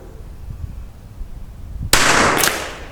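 A single sharp rifle gunshot fired at a match stick target cracks out loud and close after quiet outdoor background, then its noisy blast decays quickly.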